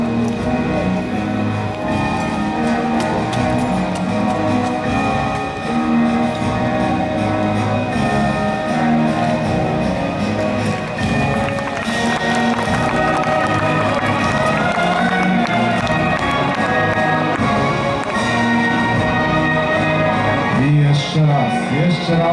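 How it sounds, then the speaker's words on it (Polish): An outdoor audience at an international knights' tournament in Dębno claps and cheers in a sustained burst, with scattered voices and crowd murmur throughout. "Brawa!"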